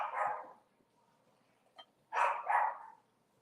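A dog barks a few times from another floor of the house, muffled and moderately distant: one bark, a short yip, then a quick double bark, with quiet room tone between.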